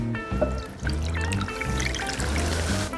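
Pickle marinade with a bit of heat poured over chicken wings in a plastic bag, a steady close trickling and splashing pour that runs for several seconds amid faint kitchen clatter.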